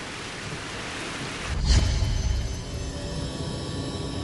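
Heavy rain with a sharp, rolling crack of thunder about midway, the downpour hissing steadily before and after the rumble.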